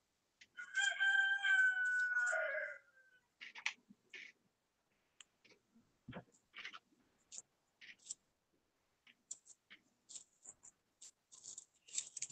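A rooster gives one loud, close crow lasting about two seconds, then scattered faint clucks and clicks follow through a quiet outdoor stretch.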